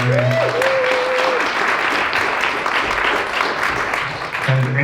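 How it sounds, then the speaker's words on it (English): Audience applause breaks out in a high school auditorium for a man named Jeremy, a steady, dense wash of clapping filling the room for several seconds, with a voice talking briefly over the start and end. "Big round of applause for Jeremy."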